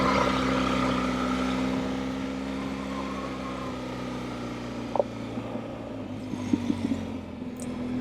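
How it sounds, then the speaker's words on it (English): Steady engine drone from a BMW R1200 GS motorcycle's loud exhaust during an off-road ride, a low constant rumble running throughout, easing slightly in the second half with a few brief clicks and knocks near the end. "Man, this exhaust is so damn loud now."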